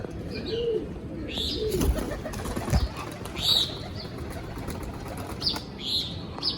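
A kept pigeon is let out to fly, with soft cooing and bursts of wing flapping against a noisy outdoor background, plus a few higher chirps from other birds, moderately close.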